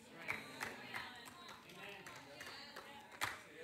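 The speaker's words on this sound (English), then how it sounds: "She's clapping because she knows how important this is to get into young people" Youth pastor clapping in a church hall during a sermon, with a handful of sharp claps spaced irregularly, the loudest near the start and end, over a faint room murmur.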